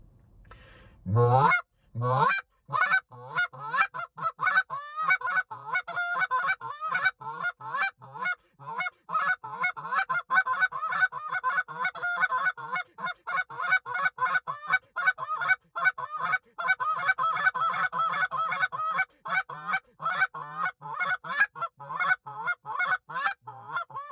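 A goose call blown in a rapid, continuous run of honking clucks and drawn-out moans, loud and close, with no voices.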